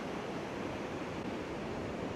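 Ocean surf breaks on a beach at Cambois, a steady, dense wash of waves roaring continuously at close range with no voices.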